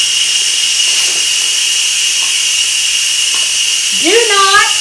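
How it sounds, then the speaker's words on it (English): Steam hisses steadily from the release valve of an electric pressure cooker in a home kitchen, a loud continuous rush that carries on for several seconds, with a short rising squeal near the end. "I'm going to let the steam out of this"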